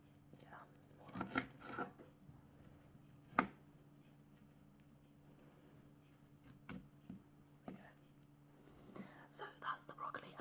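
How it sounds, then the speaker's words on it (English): Broccoli is chopped on a chopping board in a kitchen, with scattered close knife knocks in short bursts under a soft hum while a person talks quietly. "So that's the broccoli. I'm just going to clear the chopping board"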